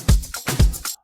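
A snare drum sample in an Afro House beat plays alone, with two punchy kick-and-snare hits followed by short percussive taps in a tight, loud rhythmic pattern.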